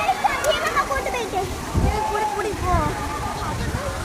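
Water thunders down the Old Courtallam waterfall in Tamil Nadu, a dense close roar with surging swells, while people talk loudly over it throughout.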